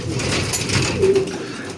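Soft, low cooing of racing pigeons in a loft over a steady background hum, with no talking.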